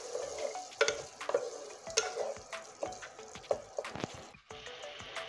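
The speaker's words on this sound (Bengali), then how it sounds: "মশলাটা এখন সুন্দর করে কষতে হবে।" Spice paste sizzling as it is stir-fried for a mustard fish curry with pabda fish, with a steady fry and repeated scraping strokes of a spatula against the pan, close and moderately loud, no talking.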